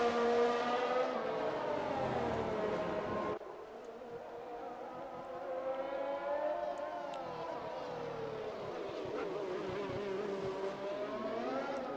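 Several race cars in a sim-racing game roll through a formation lap at the Hungary circuit, a steady rising and falling engine whine that drops suddenly in level partway, then continues evenly with faint speech underneath.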